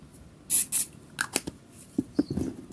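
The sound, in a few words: hand sanitizer spray bottle spraying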